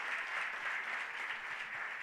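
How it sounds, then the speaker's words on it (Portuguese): A church congregation applauds during a Sunday celebration service, a steady, even wash of many hands clapping together, moderately distant and without any voices over it. "gostaria que a igreja agora faz o que sempre o pastor pede para fazer, aplaudir Jesus pela vida dos visitantes"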